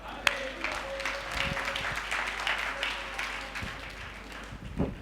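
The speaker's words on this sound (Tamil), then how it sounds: "கைத்தட்டு." Congregation clapping at a Pentecost Sunday church service, a loose, uneven patter of hands with a few sharper claps and faint background sound.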